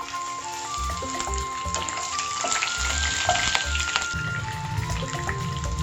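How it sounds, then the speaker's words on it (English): Chopped green chilies and curry leaves with asafoetida sizzle and fry in a pan over medium flame, a steady crackle broken by the scrape and clink of a spoon stirring, with no talking. "Mix well and stir fry at medium flame."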